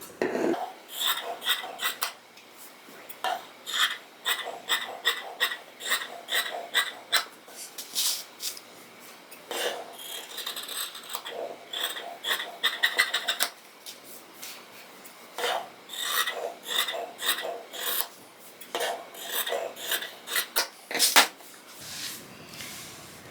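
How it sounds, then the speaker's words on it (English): Fabric being cut all the way around a hem while draping a gathered-front yoke blouse, heard as close repeated rasping snips and rubbing strokes in uneven bursts, with no talking over them. "Cut all the way around."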